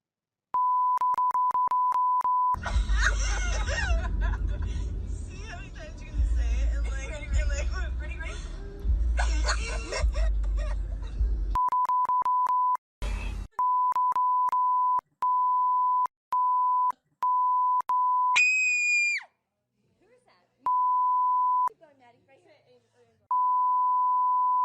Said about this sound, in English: we beeped it so many times because that's how many times they said it